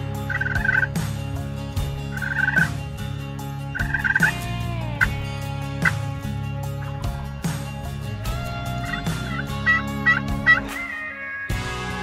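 A wild turkey gobbler in the woods gobbles loudly several times in rapid rolling bursts, answering calls from nearby, with steady background noise and no talking.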